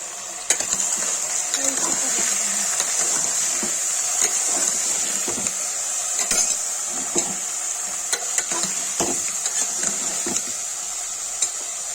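Beans and mushrooms roasting in a pan for a veg sabzi give a steady, close hiss of frying, broken by frequent spoon scrapes and clinks against the pan throughout.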